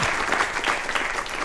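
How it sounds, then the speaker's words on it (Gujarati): An audience at a comic poetry gathering breaks into applause welcoming a poet, a steady dense wash of many hands clapping close by, sustained evenly throughout. "તાળીઓથી વધાવી એમને"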